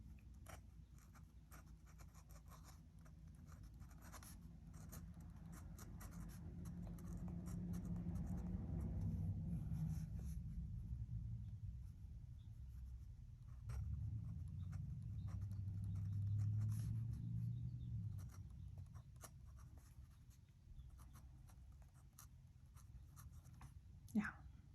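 A fountain pen scratches across notebook paper in a long writing sample, with close repeated nib strokes and soft scratches, some bursts louder than others, and a faint rumble in the background.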